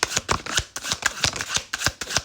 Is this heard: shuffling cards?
yes